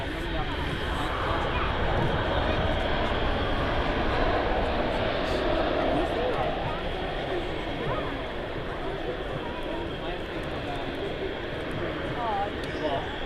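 A Jet2 airliner arrives at Manchester Airport, its engines giving a steady, broad, loud roar that holds throughout without letting up.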